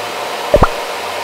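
Twin fans of a foldable airbrush spray booth for painting Gundam models run at a lowered speed, giving a steady, even whir broken by two brief soft bumps.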